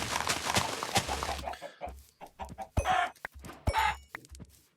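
Chickens cluck in the video game Minecraft, a few short clucks spaced through a quieter stretch after a louder burst of game sound at the start, with no talk.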